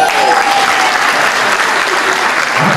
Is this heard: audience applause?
yes